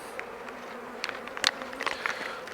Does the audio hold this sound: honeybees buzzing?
yes